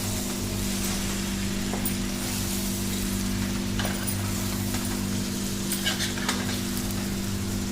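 Chicken curry gravy stirred through the chicken pieces in a pan, a steady soft frying sizzle with faint scraping running evenly throughout under a constant low hum, with no talking.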